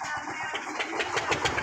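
A boat engine starts near Bawean Island in the Java Sea, turning over with a rough, rhythmic mechanical chugging that steadies into a running rumble, fairly close and without talk over it.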